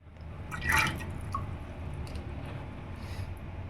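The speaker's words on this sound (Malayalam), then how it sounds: "ഇതിലേക്കാണ് നമ്മൾ ഇനി പയർ ഇട്ട് കൊടുക്കാനായിട്ട് പോകുന്നത്" A quick splash and a few drips as overnight-soaked cowpeas drop into water in a cooker, followed by soft wet settling sounds against a quiet background.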